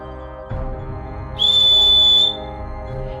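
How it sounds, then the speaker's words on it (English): A single clear whistle note, held steady for about a second, rises out of low background rumble and then stops. "Evidently, the best way to find out is to whistle."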